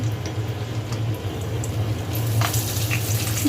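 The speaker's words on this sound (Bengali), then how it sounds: "পেঁয়াজটাকে একটু হালকা ভাজা ভাজা করে নেব।" Chopped onions fry in oil in a kadai for duck bhuna, a steady moderate sizzle with a few faint ticks of stirring, no voices.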